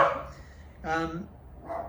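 A dog barks nearby in a home during an exercise session, with a couple of short barks separated by pauses, loud and close, alongside some faint background sound.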